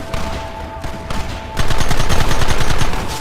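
Loud, dense bursts of gunfire crackle in Red Dead Redemption, rapid overlapping shots from several guns swelling into a sustained volley after a brief quieter opening.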